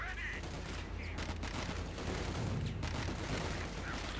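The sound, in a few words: gunfire and mortars in Company of Heroes 2 video game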